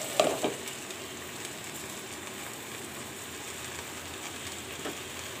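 Okra seasoned with salt and turmeric fries over medium heat in a pan as a lid is set on it. A brief clatter opens a steady, soft, even sizzle, heard close with no voices.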